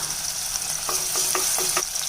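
Onion and tomato sizzle steadily in a pan with ginger-garlic paste while a utensil stirs in short, rhythmic scrapes for a gravy. No one speaks.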